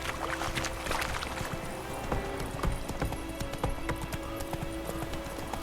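Roach the horse gallops in The Witcher 3, hooves thudding in a quick, steady clip-clop rhythm close up, with faint ambient game sound beneath.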